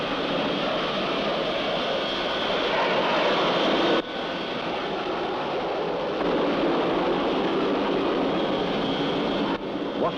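An aircraft engine drones at full power as a plane circles the airfield, a loud, steady rumbling roar with brief cuts and shifts in tone.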